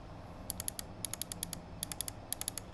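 Left button of a Glorious Model O gaming mouse held close to a lavalier mic, clicked in quick bursts of three to six sharp, crisp clicks with short pauses, close and clear against quiet room tone.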